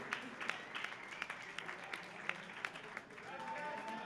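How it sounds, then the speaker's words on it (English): Scattered audience clapping at an equipped bench press championship, a sparse run of distinct claps heard at moderate distance, with talking mixed in. "Applause, please."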